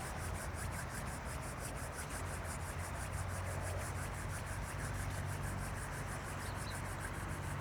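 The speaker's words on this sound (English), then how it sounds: "Rub the palms together to create some heat." Palms rubbing briskly together during a yoga session, a steady continuous dry swishing friction that stays even and close for the whole stretch without talk.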